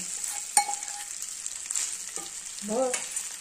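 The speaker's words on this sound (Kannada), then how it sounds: "ಈ ತುಪ್ಪದಾಗ ಅಂದ್ರೆ ಚೆನ್ನಾಗಿ ಫ್ರೈ ಮಾಡ್ಕೊತೀನಿ" Raw wheat fries in ghee, giving a faint, sparse sizzle with scattered scraping and clicking from stirring in a quiet kitchen.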